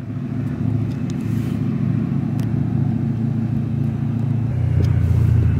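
Gintani twin turbo BMW E92 M3 making about 850 hp, its engine a steady, deep rumble heard from some distance that swells slightly louder toward the end.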